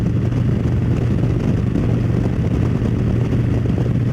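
A motorcycle cruises in 6th gear at about 75 just under 3,000 RPM, giving a steady, loud, low engine drone with wind rush that holds constant throughout, with no speech.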